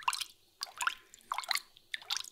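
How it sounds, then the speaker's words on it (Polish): Water dripping as a kitchen sound effect, four separate wet drips and plops spaced about half a second apart, close and clear against a quiet background. "A jeszcze zrobimy taki FX wody."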